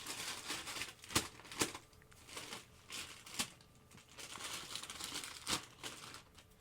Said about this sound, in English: you just shake the newspaper and make that noise the whole